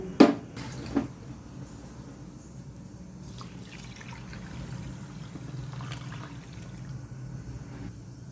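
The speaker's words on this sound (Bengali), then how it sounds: "দেরাদুন চালগুলো আমি খুব ভালো করে জল পাল্টে পাল্টে ধুয়ে নেব।" Dehradun rice being washed in bowls of water, with a couple of sharp drips and clinks at the start, then soft continuous sloshing and trickling close by, fairly quiet.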